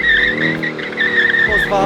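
Porsche 718 with a 420-horsepower engine drifting, its tires squealing loudly in long sustained screeches that waver and briefly break off, with engine noise beneath.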